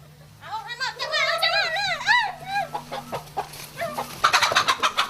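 Chickens in a remote Cambodian village cluck and call in quick, rising bursts, close and fairly loud, with a person talking over them.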